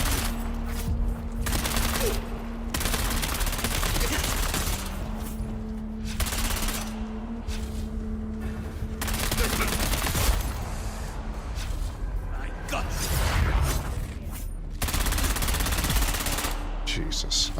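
Rapid, continuous gunfire in a video game firefight, sustained bursts of close automatic shots rattling on for many seconds, with a voice occasionally talking over it.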